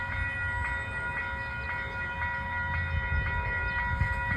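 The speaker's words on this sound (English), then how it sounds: "This is our last train of the day to Poughkeepsie." Conrail train 201 passes through Peekskill, a steady rumbling roar with rhythmic wheel clicks and sustained tonal rail squeal or horn-like ringing, fairly loud and close, with no talking.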